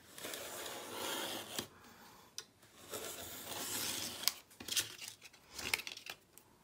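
Paper is trimmed down along a ruler for an 8.5 by 8.5 inch mini album base, giving soft, quiet scraping and cutting strokes with small crinkles, close and alone.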